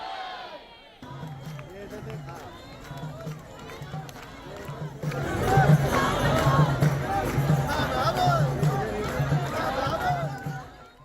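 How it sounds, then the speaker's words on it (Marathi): Sai devotees gather at the Sai temple at midnight for New Year and cheer. The crowd noise is loud and dense, with chatter and shouting that swell partway through and continue steadily. "मध्यरात्री 12 वाजता साई भक्तांनी एकत्र येत जल्लोष केलाय।"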